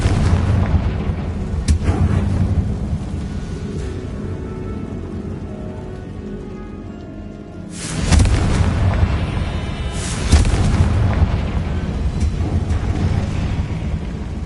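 Spell explosions crack out in Hogwarts Legacy, a steady rumbling blast bed broken by a sharp, loud burst near eight seconds and another around ten, with no talk.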